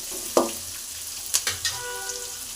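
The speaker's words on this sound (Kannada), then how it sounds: "ಈರುಳ್ಳಿ ಸ್ವಲ್ಪ ಬ್ರೌನ್ ಕಲರ್ ಆಗುವವರೆಗೂ ಫ್ರೈನ ಮಾಡ್ಕೋಬೇಕು." Onions sizzle in a pan with a steady low hiss, broken by a sharp scrape and a few quick stirring knocks of a utensil.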